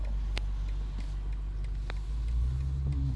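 A 2020 BMW M8 is driven on the road, heard from inside as a steady low engine rumble with road noise. A few faint clicks sound over it, and the drone swells slightly near the end.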